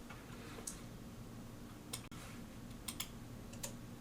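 Several light, sharp key presses on a computer keyboard, scattered clicks spread over a few seconds against a very quiet background, close and faint, with no talking.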